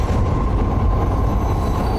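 A train in a Call of Duty Modern Warfare level rumbles past close by, a dense, continuous roar of rolling wheels and rail noise with no speech over it.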